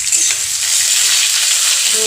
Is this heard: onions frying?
yes